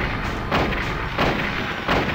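Gunfire from the PlayStation game Silent Hill, aimed at the final boss: three heavy, booming shots at a steady, roughly evenly spaced rhythm, loud and close over a dense rumbling game background with no talk.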